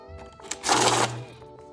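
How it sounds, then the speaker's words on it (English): A money counting machine riffles through a stack of cash bills in a burst of dense, whirring flutter lasting about half a second, loud and close, with quieter mechanical hum before and after. "The big money machine is out, so let's get to counting."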